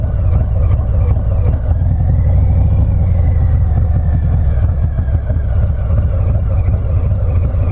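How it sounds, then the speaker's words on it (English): A customized Stage III Harley-Davidson Sport Glide with a 128 twin cam idles through a Bassani Ripper exhaust, producing a loud, deep, steady rumble up close with no breaks. "That idle out of that Bassani Ripper"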